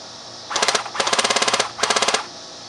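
Licensed Elite Tavor TAR-21 airsoft rifle by Umarex firing full auto in three loud, rapid bursts, the middle one longest, each a crisp mechanical rattle of closely spaced shots with short pauses between.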